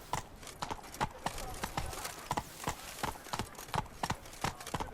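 Horse hooves clip-clop in a rapid, steady galloping rhythm in The Witcher 3, close and clear, with no talking over the hoofbeats.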